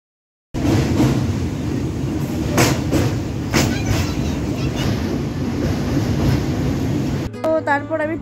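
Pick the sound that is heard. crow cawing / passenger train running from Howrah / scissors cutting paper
passenger train running from Howrah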